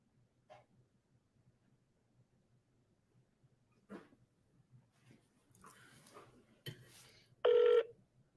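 A telephone number being dialed during a live seller-calling session: a short, bright keypad tone sounds near the end, after scattered faint clicks and noises over a quiet line.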